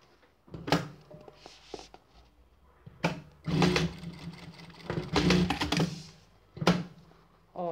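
A sewing machine stitches a seam on a square or inverted bra cup in several short, close bursts of rapid whirring, separated by brief pauses and a few soft handling knocks.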